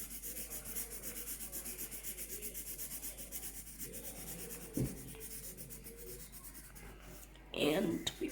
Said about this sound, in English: So, I think I'll just have to put a few coats of this marker again